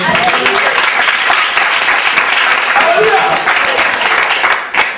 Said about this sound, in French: Est-ce qu'on peut acclamer pour sa vie?